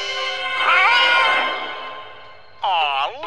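A cat gives a long, loud, wavering meow, then after a short pause lets out another sharp crying meow, close by.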